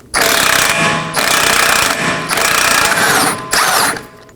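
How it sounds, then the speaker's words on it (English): A loud, rattling pneumatic impact wrench with a 32mm socket loosening a rear axle nut on a 2018-2024 Chevrolet Equinox, hammering in several long bursts with short breaks between, close by and harsh. "I'll be using a 32mm socket and an impact wrench."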